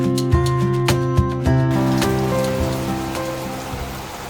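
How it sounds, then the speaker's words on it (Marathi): Heavy monsoon rain in a Konkan village hits hard surfaces nearby, with a steady dense patter and a ringing, rhythmic drumming that fades slightly toward the end, no voices. "कोकणामध्ये खूप जास्त पाऊस पडत होता"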